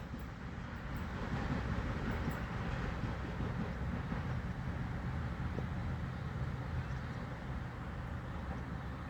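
Doodlebug train running in a steady rumbling roll, with continuous low rail noise and faint clickety-clack throughout, heard up close without any talk.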